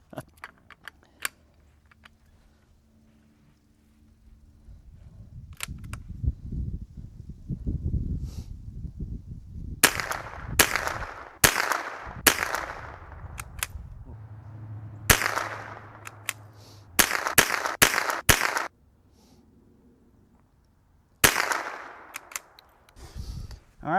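.22 rifles firing special match ammunition at a range: sharp, sparse cracks with long silent gaps, several quick pairs and clusters, heard close over low handling noise and faint background sounds.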